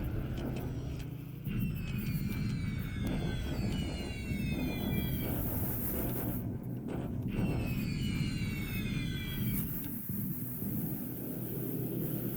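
British bombers fly over in the Pacific: AE wargame, a steady, faint engine drone with overlapping chirping, sweeping tones that rise and fall in two waves.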